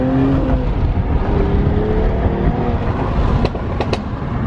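2020 Mercedes-Benz CLS 53 AMG exhaust accelerating through a U-turn, a loud close engine roar with rising and falling tones, a few sharp crackles near the end.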